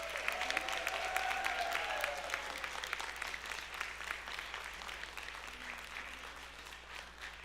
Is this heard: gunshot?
no